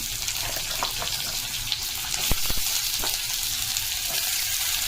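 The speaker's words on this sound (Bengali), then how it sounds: "পেঁয়াজ দিয়ে দিলাম, আদা দিয়ে দিলাম" Onion and ginger fry in a pan for a fish kalia, a dense close hiss like running water with a few knocks and scrapes of a spatula, steady throughout and without talking.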